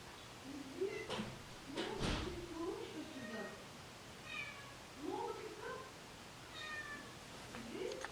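A cat meows several times in drawn-out, rising cries spaced a second or two apart, fairly close, with a thud partway through.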